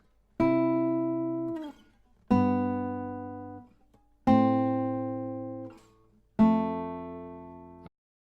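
Four strummed acoustic guitar chords, each ringing out and decaying before the next, with slides between the chord shapes, played alone and close with nothing else audible.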